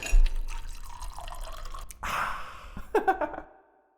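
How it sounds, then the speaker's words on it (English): Whiskey pours into a glass with a steady liquid splash that shifts pitch as the glass fills, then a few brief drips before it stops, close and fairly quiet. "Hey, Brandon, pour me another one."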